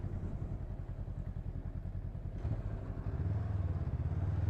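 A Honda Rebel 500 motorcycle engine idles with a steady close thumping pulse, then the throttle blips and the revs climb into a louder, denser drone that holds to the end.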